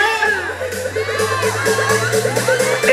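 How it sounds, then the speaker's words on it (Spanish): Spectators at an enduro race in Temascalcingo shouting with excitement, a dense wash of whoops and high cries from the crowd over a steady low engine drone. "¡Pegan esos gritos de emoción!"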